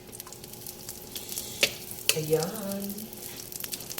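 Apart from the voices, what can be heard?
butter melting and sizzling in cooking oil in a pan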